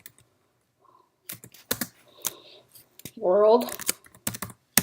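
A computer keyboard is typed on in short bursts of quiet clicks spread through the clip, close and crisp, alternating with a person talking.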